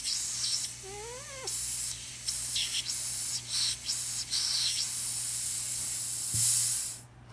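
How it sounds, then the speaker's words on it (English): Compressed air hisses out of a wastegate port, a close broadband rush that rises and dips in short bursts as a finger moves across the opening, with a faint low hum beneath. "you can hear that air leaking by as I move my finger over that port"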